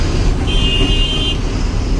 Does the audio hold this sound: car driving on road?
yes